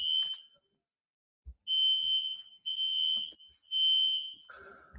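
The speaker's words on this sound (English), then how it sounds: "the fire alarms are still running" A fire alarm shrills in long piercing beeps, three sustained blasts after a short opening tone with brief gaps between, loud and near, then a lower buzzing tone at the end.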